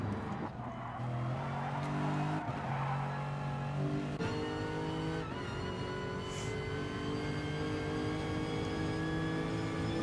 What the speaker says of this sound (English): These exquisite GT3 cars.